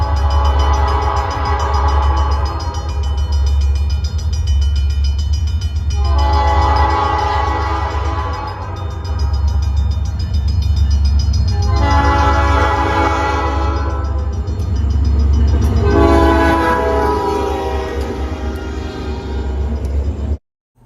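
A QGRY SD40-3 diesel locomotive, number 6904, rumbles past with a loud, continuous low engine drone, sounding its horn in four long blasts spread evenly across the pass.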